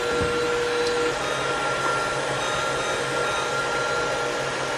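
A KitchenAid stand mixer runs steadily while whipping cream on its way to becoming butter, a constant close motor whir with no pauses and no talk.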